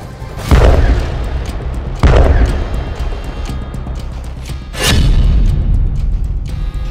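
Shelling explosions in Gaza: three heavy, loud booms spaced a couple of seconds apart, each followed by a long rumbling roar of debris and echo, with no voices.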